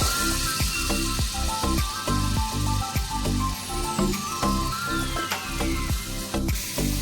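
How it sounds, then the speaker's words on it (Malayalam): Ginger garlic paste frying in hot oil for a mutton kurma, a steady dense sizzle with sharp spitting crackles and a repeating rhythmic clatter running underneath throughout. "എണ്ണ ചൂടാകുമ്പോഴത്തേക്കും നമ്മുടെ ഇഞ്ചി വെളുത്തുള്ളി പേസ്റ്റും വറ്റൽമുളകും ഉപ്പും ഇട്ട് കൊടുക്കാതെ ഇഞ്ചി വെളുത്തുള്ളി പേസ്റ്റ് ഇട്ട് കൊടുക്കുകയാണ്"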